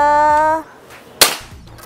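A single sharp, cracking shot from a Black Army Tactical PCP bullpup air rifle snaps out after a fading tonal hum, with a brief ringing tail.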